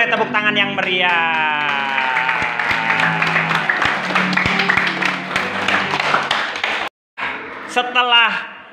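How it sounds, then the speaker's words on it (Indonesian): Primary school pupils visiting a digital reading corner break into lively applause, rapid claps layered under loud cheering and chattering children's voices, briefly cutting out before resuming. "Tepuk tangan."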